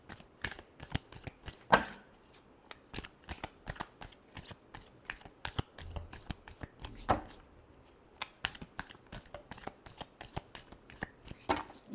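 A tarot deck shuffled by hand in a quiet room: a rapid, continuous run of crisp card riffles and flicks, close and fairly loud, with a few sharper slaps as the cards are squared up.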